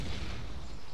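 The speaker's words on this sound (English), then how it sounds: "Oh, there's another explosion." A loud, close explosion in the survival game DayZ, a brief rumbling boom that fills the whole second with no voices.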